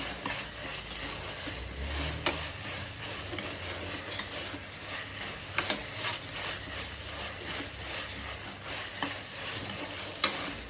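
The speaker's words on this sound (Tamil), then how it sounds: "இஞ்சி பூண்டு பேஸ்ட் போட்டுக்கிறேன். போட்டு நல்லா வணக்கி விட்டுட்டு" Ginger garlic paste sautés in oil in a pan, a continuous close sizzle and frying hiss with repeated stirring scrapes and occasional sharp ladle clicks throughout.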